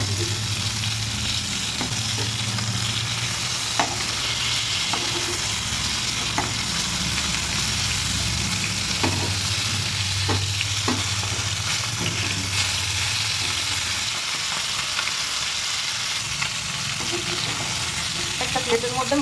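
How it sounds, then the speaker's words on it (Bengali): Koi fish frying one by one in mustard oil in a wok: a dense, continuous close sizzle with scattered pops and the occasional scrape of turning, no talk. "এবার একটা একটা করে মাছ তেলের মধ্যে ফ্রাই করে নেব।"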